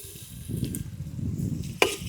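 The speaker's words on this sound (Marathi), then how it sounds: "मस्तपैकी कढीपत्तो आणि कांदो टाकलाय फोडणीत" Curry leaves and onion hit hot oil for a tempering at an outdoor village cooking spot, giving a soft crackling sizzle that builds, then a sharp clack near the end.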